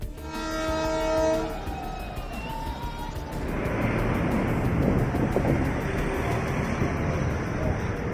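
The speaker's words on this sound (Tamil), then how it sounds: "பாம்பன் புதிய செங்குத்து தூக்கு பாலத்தில் ரயில் இன்ஜினை இயக்கி சோதனை." Railway engine running a test crossing over the new Pamban vertical lift bridge: a loud horn blast opens, then a steady heavy rumble and clatter of the locomotive rolling past close by.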